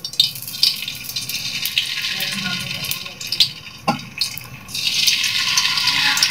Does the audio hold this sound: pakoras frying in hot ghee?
yes